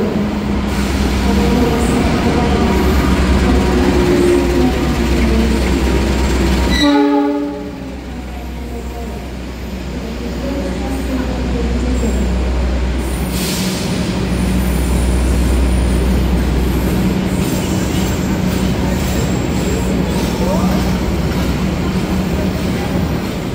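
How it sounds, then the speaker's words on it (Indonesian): The stainless steel Argo Semeru train rolls into Madiun station with a loud, steady rumble of wheels and carriages, a stepped horn-like tone near the start, and a continuing roar as it arrives. "yang baru datang di jalur 3 ini adalah kereta api Argo Semeru dari Surabaya Gubeng tujuan akhir Gambir"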